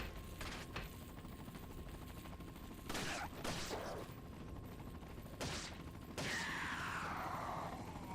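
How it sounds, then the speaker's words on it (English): A Gatling gun fires in Resident Evil 4, with several short bursts of rapid shots over a quiet background, the last burst trailing into a whirring spin-down, fairly faint. "Gatling is making noise even though it shouldn't be."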